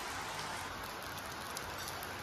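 Steady rain falls outdoors in hot weather, a continuous dense hiss of drops with no talk, even and close throughout.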